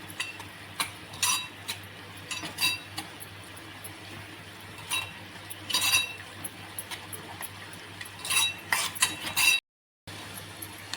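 Spoon stirring turmeric and Kashmiri chilli powder into roasted brinjal in a metal pan, irregular clinks and scrapes in bursts, close and fairly crisp, with a brief silent gap near the end.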